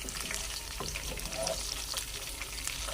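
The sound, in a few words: tempering cumin, black pepper and green chillies in hot oil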